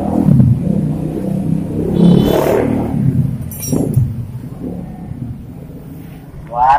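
A new 2020 Beat motorcycle, said to lack power, revs in a few rising and falling bursts, moderately loud and close, while people talk over it.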